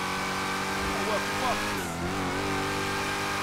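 A car engine in GTA 5, driven as an upgraded Altima, hums steadily with a brief rev and pitch swing in the middle, close and continuous, with game sound underneath.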